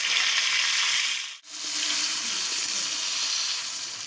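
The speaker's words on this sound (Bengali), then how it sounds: "মাছগুলো এখন আমি উল্টে পাল্টে ভেজে নেব" Rui fish frying in hot oil, a steady dense sizzle of oil and moisture with a brief dip as the pieces are turned, continuous and close.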